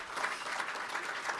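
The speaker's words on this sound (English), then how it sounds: "give me the applause, let's hear it." Applause from a crowd at a high school football awards dinner, a dense steady patter of many hands clapping throughout, moderately loud and without voices.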